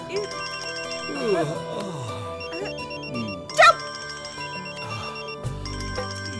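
A mobile phone ringtone plays a repeating electronic melody indoors, steady and moderately loud under overlapping talk from several people.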